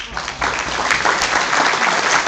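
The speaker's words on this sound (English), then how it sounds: "Please, let's give them a round of applause." An audience at a candidate forum in East Hawaii applauds, a steady burst of dense clapping that rises quickly and holds at full strength throughout.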